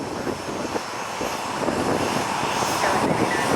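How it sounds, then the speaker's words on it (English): Jet blast from a Southwest Boeing 737 engine, a loud, close, steady broadband roar that swells slightly and holds throughout without a break. "Jet blast."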